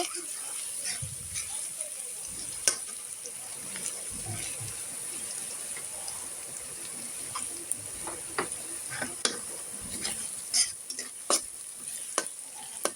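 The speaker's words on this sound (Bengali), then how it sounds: "এখানে আমি প্রথমত শুকনো মরিচ দিয়ে তারপরে এটাকে আমি লালচা করে নিব হালকা লালচে করে নিব" Dried red chillies fry in a pan, a soft steady sizzle with crackles and scraping stirs popping irregularly over it, close and fairly quiet, with a voice talking over the cooking.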